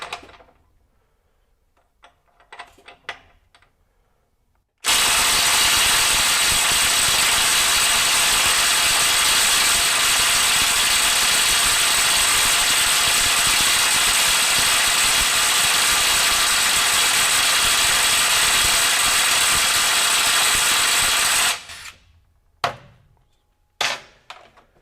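A DeWalt DCF845 20V XR brushless impact driver runs in reverse at speed 3, a loud continuous rapid hammering buzz that lasts about seventeen seconds, framed by quiet handling noises before and after.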